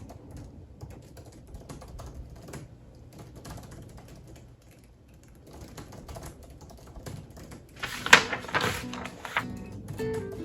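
Typing on a computer keyboard while writing a book, a steady soft patter of keystrokes that swells into a louder, busier flurry near the end.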